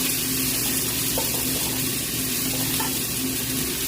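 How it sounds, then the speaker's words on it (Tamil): Washed, cut ivy gourd added to a hot pan with turmeric, a loud steady broadband sizzle of frying throughout, close and continuous. "இப்போ கழுவி கட் பண்ணி வச்சிருக்க கொவ்வக்காய் ஆட் பண்ணுறேன்"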